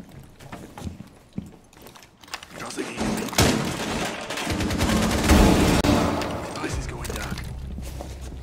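Shotgun blasts and gunfire in a Rainbow Six Siege match, a few sharp loud reports amid chaotic in-game noise and rising clatter, with people talking over it.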